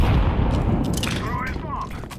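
A deep, rumbling grenade explosion booms in a video game and rolls on with low, sustained rumble as a voice speaks over it.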